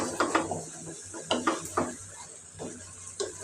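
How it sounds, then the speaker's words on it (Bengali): Mixed vegetables are stir-fried in a pan, with a utensil scraping and tossing in short, irregular strokes over a quiet sizzle and no talking. "ভালোভাবে সবজিটা আমি কষিয়ে নেব"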